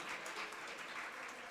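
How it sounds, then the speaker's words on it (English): Applause from the audience at a national conference in India as a Kumauni dance team is invited on stage, a steady, faint wash of clapping with no talk over it. "Have a big round of applause for the Kumauni team"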